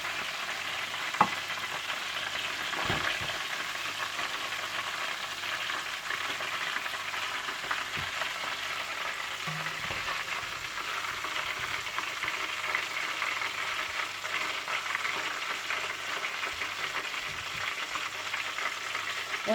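Chicken drumstick lollipops frying in oil over low heat, a constant close hiss and crackle of sizzling, with a few faint clinks and stirring touches scattered through.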